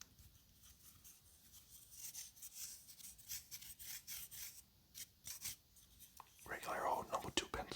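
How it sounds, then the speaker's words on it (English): A regular number 2 graphite pencil scratches and rasps across paper in soft, uneven strokes, close and quiet, with faint whispering underneath. "Regular old number 2 pencil"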